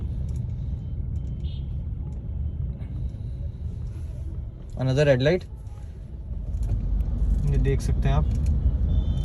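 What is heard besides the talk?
Mahindra XUV700 petrol car driving in city traffic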